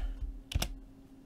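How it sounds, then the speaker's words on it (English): Two quick key presses on a computer keyboard typing DOS commands, close and fairly soft, over a quiet background hum. "So type in the following commands: C:, which changes you to the C drive, CD Win31, which changes you to that subdirectory, and then just type setup."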